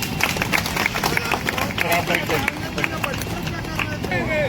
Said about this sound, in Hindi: इनके लिए फिर से एक बार तालियां हो जाए।